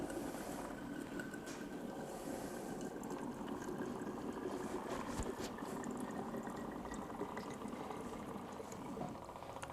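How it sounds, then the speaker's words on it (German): Hot water running from the instant flow heater of a countertop water filter dispenser into a vessel, a steady continuous hiss and gurgle with a faint bubbling, close by and unbroken throughout. "Aber nach ein paar Milliliter kommt dann auch heißes Wasser richtig raus."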